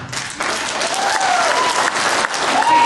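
An audience claps at a public hearing on Mexican gray wolves in Pinetop, Arizona, with brisk, continuous applause from many hands and a faint murmur of voices underneath.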